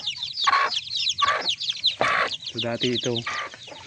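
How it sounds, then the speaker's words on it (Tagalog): A hen with chicks clucks and calls near a farmyard, with high chick peeps mixed in. Someone talks briefly over the birds. "manok na may sisiw na."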